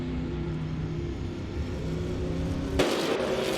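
A Pontiac Trans Am race car in a video game, racing at Grindelwald, hums with a steady engine drone, then a sharp gearshift or pass-by change near the end brightens the sound.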